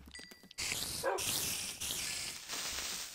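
A Minecraft dog barks several times in short bursts, loud and close, alternating with brief gaps, with no talking.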